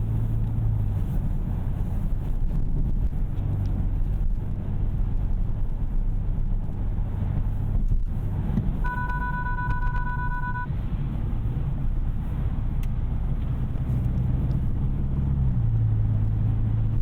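2021 Hyundai Sonata N Line sedan cruising on a highway, a steady low cabin rumble of road and engine noise, with a brief electronic chime partway through.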